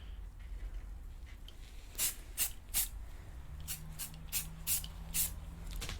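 An aerosol can lays light primer coats on art toys in short, sharp hissing bursts, roughly eight quick sprays over a few seconds. The bursts are close and fairly quiet.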